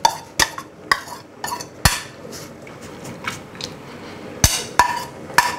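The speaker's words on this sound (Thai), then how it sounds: "ก็เอาตะไคร้ที่เราทุบแล้วก็หั่นเป็นท่อนๆใส่ลงไปนะครับตามด้วย หน่อไม้ที่เราต้มทิ้งน้ำไว้1น้ำนะครับ" Crushed, chopped lemongrass and boiled bamboo shoots go into a boiling Thai bamboo-shoot curry with fermented fish sauce, with irregular sharp clinks and knocks of a utensil against the pot and no talking.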